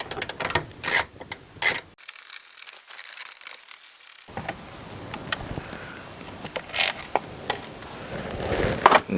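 A socket on a 10mm bolt ratchets and clicks while ProMaster van headliner bolts are removed, heard as close, busy mechanical ticking and rattling with a brief quiet gap midway, no voices.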